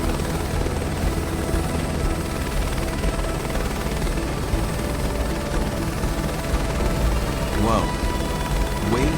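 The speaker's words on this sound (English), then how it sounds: "I just bounced the helicopter off the ground." A helicopter in Microsoft Flight Simulator 2024 drones steadily and loudly throughout, with a constant engine whine and a brief sharper burst near the end as it bounces off the ground.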